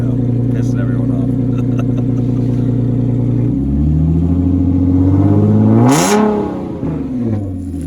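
An Audi SQ5 with full headers idles low and steady, then revs hard into a loud, rising roar that peaks sharply and drops back to a rough idle, alone and near.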